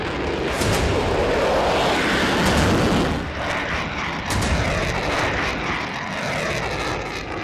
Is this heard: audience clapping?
no